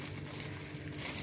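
Plastic bag holding flour, yogurt, baking powder, vanilla and an egg for homemade donut dough, crinkled and squeezed by hand in a brief close-up burst of rustling.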